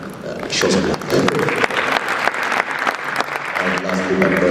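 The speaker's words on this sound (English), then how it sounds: "Let's give him a big round." Conference crowd applauding a panelist at an ICT summit, a broad wash of clapping that builds quickly and holds steady, with a speaker's voice running through it.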